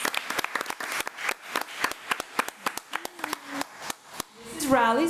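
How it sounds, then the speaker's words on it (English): Sparse, scattered hand claps from a small audience at a regular school board meeting, a few people clapping unevenly and close by, ending as a voice begins to speak. "Let's give Riley a round of applause."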